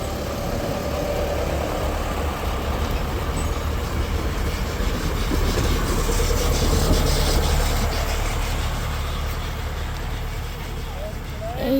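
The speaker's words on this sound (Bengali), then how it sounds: "এটা টয় ট্রেন" A toy train's engine at Eco Park, Kolkata, rumbles and chugs steadily at close range, a continuous low drone with faint background voices.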